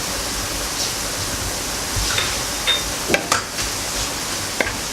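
A beef and onion dish is stirred in a pan, with soft scraping and a few brief clinks over a steady sizzle-like hiss, close and moderately loud.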